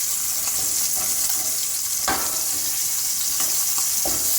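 Beef short ribs searing in a hot pan, a loud, constant sizzle with a few sharp clicks of the meat being turned, no voices.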